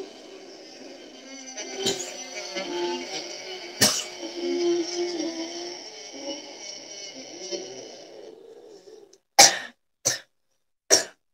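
Several sharp, forceful throat-constricted yogic exhales with the head lowered, each a brief harsh burst, the last three spaced apart after a stretch of droning tones and background talk.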